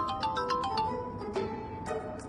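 A short electronic phone ringtone plays a quick repeating melody of bright tones, moderately loud and clear with no talking.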